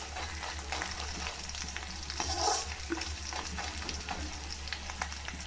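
Sundakkai turkey berries fry in a pan, giving a constant crackling sizzle with light stirring scrapes, close and moderately loud over a low steady hum, without speech.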